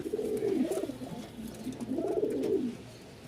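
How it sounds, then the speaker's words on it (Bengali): A pair of pure white pigeons cooing close by, two rolling, swelling coos in steady rhythm with no talk. "সাদা ধবধবা কবুতর। ডাকটা দেখাই একটু"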